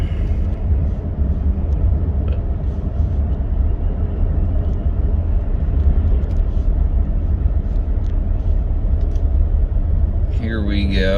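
A Subaru car drives along a road at night, its steady loud low rumble of engine and tyre noise filling the cabin, with a voice speaking briefly near the end.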